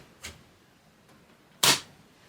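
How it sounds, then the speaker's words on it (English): HP OfficeJet Pro 9015e printer punching the seal of a newly inserted ink cartridge: a faint click, then a sharper, louder snap about a second and a half later, close by in a quiet room. "When you first put them in, there's a little punching sound because you're punching out the seal in back so that the ink can flow."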